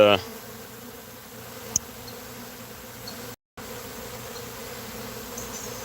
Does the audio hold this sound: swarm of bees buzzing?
yes